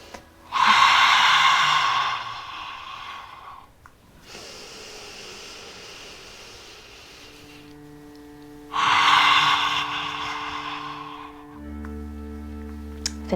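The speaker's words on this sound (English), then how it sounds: "Deep audible breath" Two long, forceful breaths out through an open mouth with the tongue stuck out, loud and close, each lasting about three seconds, with quieter breathing and a soft background drone between them.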